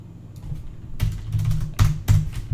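Keys clatter on a computer keyboard in a few short bursts of sharp clicks over a low, steady hum.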